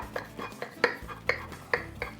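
A knife sawing through a crispy, gooey inside-out grilled cheese sandwich, about half a dozen rhythmic crunchy scraping strokes up close, alone without talk.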